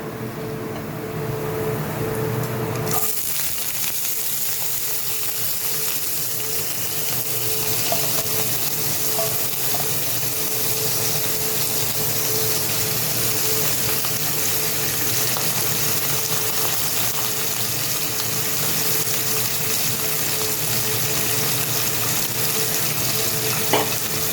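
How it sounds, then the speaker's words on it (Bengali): Chopped pointed gourd peels drop into hot oil after a brief quieter moment and then sizzle and crackle steadily and close up, with occasional stirring in the pan. "এবার তেলের মধ্যে দেব, দেখুন এরমভাবে কুচিয়ে রাখা পটলের খোসা"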